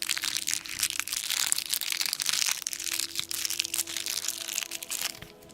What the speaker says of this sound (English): Little plastic bag crinkle.